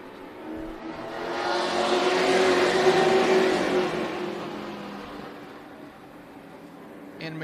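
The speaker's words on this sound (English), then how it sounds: "And McKissick going to get a good jump on that start there and stay out front" Race trucks roar past on the Tucson Speedway oval at night, engine noise swelling to a loud peak and fading away, with a commentator talking over it.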